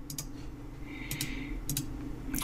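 Computer keyboard shortcut keys tapped during a Blender grass-node tutorial: a few sharp, close clicks in quick clusters over a steady low hum, with no talking.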